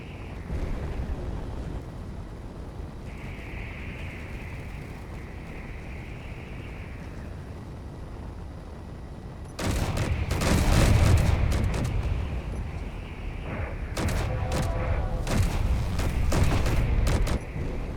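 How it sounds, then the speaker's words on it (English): Artillery fire against a dreadnought warship in the Space Engineers game: a low drone first, then a dense burst of rapid booming shots and crackling impacts, easing off briefly before another heavy barrage. "I'm going to try and strafe it first with some artillery shots before we get too far into this"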